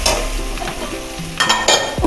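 Gobindobhog rice being sautéed and stirred in a hot pan, giving a steady sizzle with scraping stir strokes and brief louder bursts near the end.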